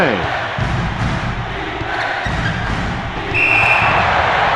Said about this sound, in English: With the crowd yelling and screaming like that, the offense turned the ball over.